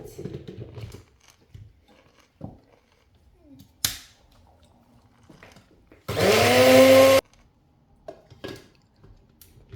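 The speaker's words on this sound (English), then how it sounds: "We put in our mango cubes. Let's blend it." Mango cubes are pureed in a blender, one loud roaring burst of about a second after scattered clicks and knocks of setting up.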